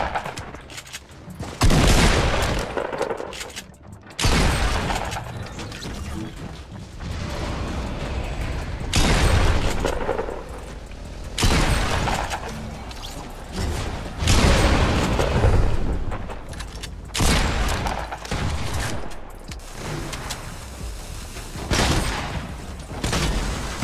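Booming shotgun blasts from a Fortnite Battle Royale match hit every couple of seconds across the stretch, each a loud, close crack with a short ringing tail, mixed with busy game noise and no speech.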